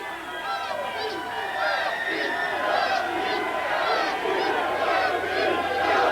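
A wrestling arena crowd roars and cheers in a sustained, dense wall of voices with shouts rising throughout, loud and continuous.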